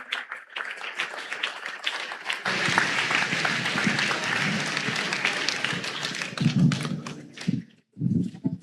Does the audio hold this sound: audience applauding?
yes